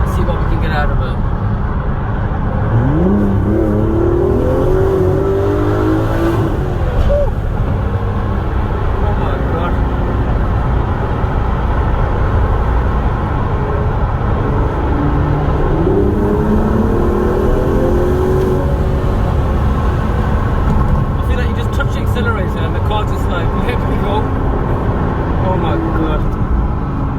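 An Aston Martin DB11 revs its engine inside a tunnel with a window cracked open, rising swoops of engine note echoing twice over a loud steady road rumble, with someone talking throughout.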